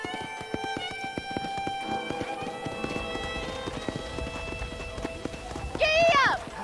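Horse hooves clip-clopping at a trot in the Red Dead Redemption video game, a steady rhythmic run under tonal music, ending with a short whinny-like cry near the close.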